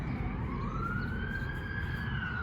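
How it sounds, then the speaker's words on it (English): An ambulance siren passes near a sheep farm during lambing season, a loud, clear rising and falling wail that sweeps across the whole moment over low road rumble. "Another ambulance just came through."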